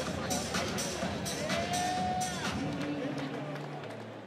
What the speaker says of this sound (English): They were chanting his name. He's a crowd favorite. Andrew Tackett always makes the crowd pop.